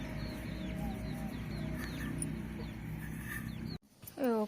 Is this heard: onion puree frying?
no